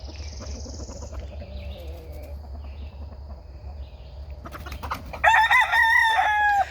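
Chickens in a Western Kentucky garden cluck and squawk nearby, a loud bird call breaking in toward the end over quiet outdoor background.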